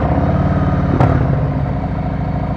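A motorcycle engine is held at raised RPM in first gear during slow-speed riding practice in the rain, a steady, close, even drone with a brief clunk partway through.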